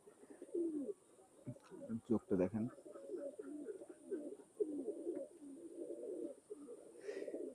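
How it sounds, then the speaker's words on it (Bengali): A sturdy female Banaras pigeon in Khulna coos in repeated low, throaty bursts throughout, close by, with someone talking briefly over it. "এটা মাদি কবুতর"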